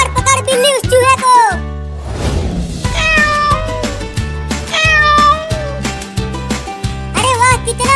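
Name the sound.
cartoon cat meowing while chasing a mouse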